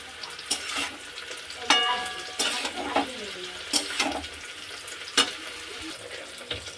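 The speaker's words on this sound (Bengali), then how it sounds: "এতে মশলা ভালো মতন একটু কষিয়ে নেবো বাঁধাকপির সাথে" Spices and cabbage sizzle in a hot pan while a spoon scrapes and stirs in repeated sharp strokes, close by.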